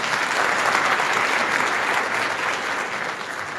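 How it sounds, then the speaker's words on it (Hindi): A church congregation at Sunday worship breaks into sustained applause, a dense, steady clapping that fills the room and fades slightly toward the end. "इसके लिए ताली होनी चाहिए।"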